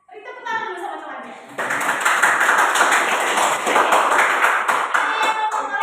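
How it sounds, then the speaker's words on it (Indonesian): Classmates clap for a fellow student in a classroom, with brief voices at the start giving way to lively, fairly loud group clapping that continues to the end. "beri tepuk tangan dulu sama temannya."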